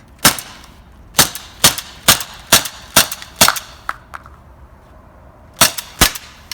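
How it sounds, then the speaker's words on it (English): A Walther PPQ paintball pistol fires through a magazine, nine or ten sharp close pops in a steady rhythm about half a second apart, then a pause before the final two shots. "All right, that's one mag."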